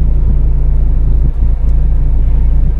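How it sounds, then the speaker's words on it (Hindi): A manual car sits idling with the clutch fully pressed while first gear goes in, giving a loud, steady, low engine rumble close by with a brief dip midway, and no voices. "अभी मैं क्लच पूरा दबाया, अभी ये फर्स्ट गियर डालता हूँ"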